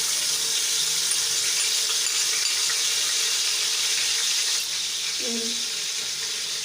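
Ginger and garlic fry in hot ghee, giving a steady loud hiss of sizzling throughout with a brief clink near the end.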